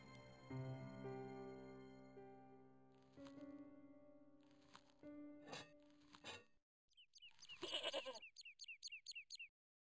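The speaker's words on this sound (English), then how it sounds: "Stupid goat!" A goat bleats repeatedly in Broken Sword: Shadow of the Templars, a run of loud, quavering bleats near the end following earlier music-like tones, with no talk over it.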